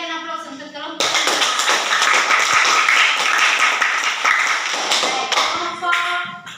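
A classroom group gives a burst of clapping that starts abruptly and carries on steadily for about five seconds, then fades out, with speech just before and after.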